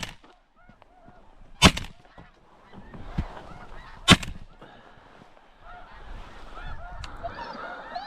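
A flock of adult snow geese honks during a North Dakota hunt, a dense chorus of calls near and far, punctuated by two loud, sharp shotgun blasts.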